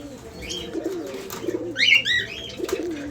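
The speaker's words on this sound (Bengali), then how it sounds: "পায়রা।" A pair of Sirazi pigeons coo softly in low, rolling phrases, repeated several times at close range, while higher chirps from other small birds flutter over the top.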